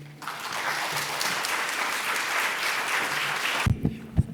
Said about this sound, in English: Give another round of applause to Sandeep.